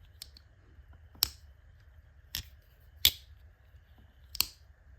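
A GEC 43 Oregon Trapper pocket knife blade snaps open and shut with four sharp, crisp clicks spaced about a second apart, close up over a quiet low hum.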